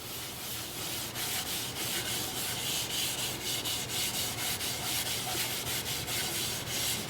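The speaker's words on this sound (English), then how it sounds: "I have the lathe spinning in reverse at 350 RPM. I'm starting at 80 grit" Sandpaper at 80 grit rubs against black walnut turning on a lathe run in reverse at 350 RPM, making a steady, continuous close-up rasping hiss with no talking.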